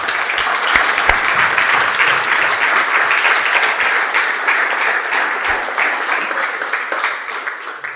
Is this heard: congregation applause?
yes